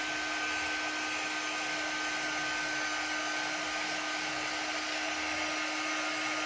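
A hair dryer blows steadily on a fall kitchen home decor craft piece, a loud continuous whooshing roar with a constant whine that holds throughout without pause.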